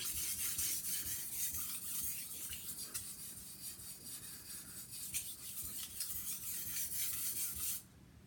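A kitchen knife is rubbed steadily across a whetstone to raise a tiny burr, giving a continuous close, faint gritty scraping with no voices, ending abruptly near the end.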